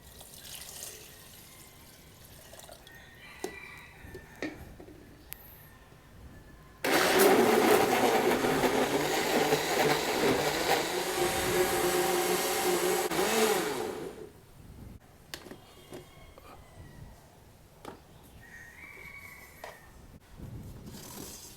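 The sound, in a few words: blender blending a ripe banana with water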